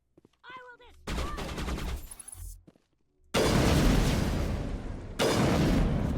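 Gunfire in the Mass Effect video game, presumably pistols, erupts in loud dense bursts: a first volley of rapid shots, a short lull, then heavier sustained fire with a fresh surge near the end.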